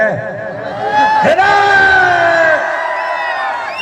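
A large crowd at a live Bhojpuri stage show cheers and shouts, a swelling roar of voices and whoops that peaks and then slowly tapers off, heard loud and close.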